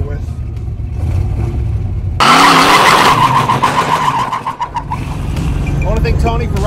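A 1967 Camaro does a burnout, its tires shrieking loudly in a sustained, wavering skid that starts abruptly after a rumbling idle, with engine roar underneath.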